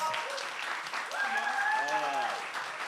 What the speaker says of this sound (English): please, man, big round of applause for them